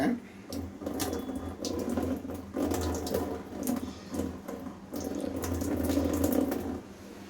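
Water is drained into a sink after boiling garlic, pouring steadily for several seconds, splashing and gurgling with a low rumble underneath, fairly close.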